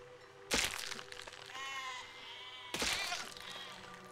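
A sheep bleats in Besiege between two loud cracking crunches, a wavering cry rising in the middle of a short stretch of quiet game ambience.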